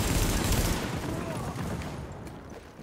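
Enemy gunfire in Tom Clancy's The Division video game, a loud rattling volley of rapid shots that gradually fades, with a voice faintly mixed in.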